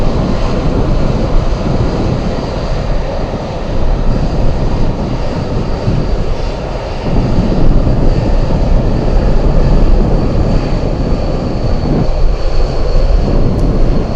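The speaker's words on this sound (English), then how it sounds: "Clear for takeoff. Here we go. This one will be heavy." A heavy cargo airplane bound for Hanoi takes off from runway 15 at Anchorage in gusty winds, its engines roaring loud and continuous throughout with rushing wind buffeting the microphone.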